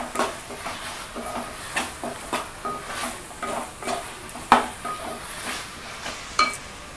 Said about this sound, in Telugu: ఆయిల్లో ఫ్రై అవ్వాలంటే మనకి ఇది కూడా వేసి కొంచెం ఈ ఆయిల్లో ఫ్రై అవ్వనివ్వాలి.